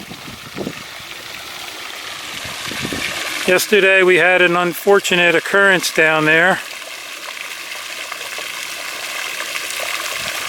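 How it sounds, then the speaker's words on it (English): Water runs steadily in a garden stream in a Pennsylvania organic garden, a soft continuous rushing that stays under a man's nearby speech and carries on alone after he stops. "It's always nice to hear that running water."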